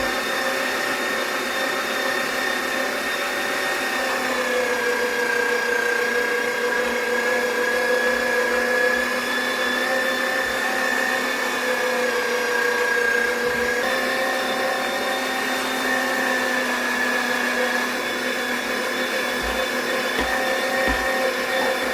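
Electric meat grinder running steadily while grinding fresh chicken, a continuous motor whine with shifting tones as meat is pushed through, loud and close throughout.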